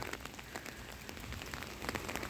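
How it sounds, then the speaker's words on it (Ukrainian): Morning rain falls steadily on a surface, a dense patter of many small drops at an even, moderate level with no talking. "Це погода зранку, дощ іде,"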